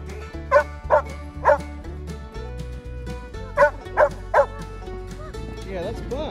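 A dog barks in two quick bursts of three, close by, with a steady low hum running underneath; outdoors in snow.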